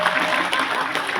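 A short burst of audience applause at a gathering in Hong Kong, an even wash of many hands clapping without pause, loud and fairly close.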